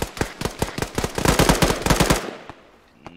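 Sustained automatic gunfire in ArmA 3 during a zombie survival mission inside a building, loud and close with rapid irregular bursts for about two seconds, then a ringing tail and a few faint distant shots.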